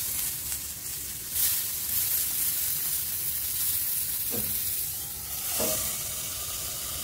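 Chicken tikka sizzles steadily on a hot stone dosa pan, a constant close frying hiss with a couple of brief louder bursts of spitting.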